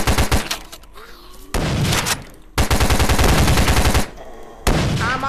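Rapid automatic gunfire in the VRChat zombie survival game comes in three long loud bursts separated by short pauses, each a dense stream of sharp close shots.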